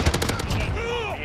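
An M91 machine gun fires in Modern Warfare, a close, rapid string of shots in the first half that gives way to trailing echo and tail.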